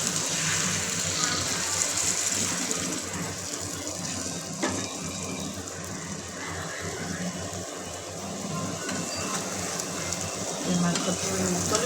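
Hot water pours steadily into a cooking pot for meat, a continuous gushing and splashing hiss that holds at an even level throughout, up close.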